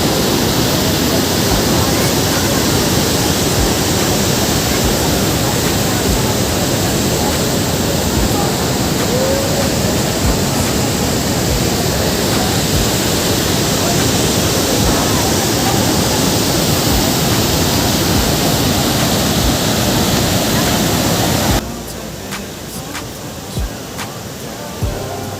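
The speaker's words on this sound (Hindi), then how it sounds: "ये जो सारा पानी है ये अभी बरगी डैम से यहाँ आ रहा है" Rushing water released from Bargi Dam pouring through the gorge at Bhedaghat, a loud, dense, unbroken roar that holds steady for over twenty seconds before dropping to a softer rush near the end.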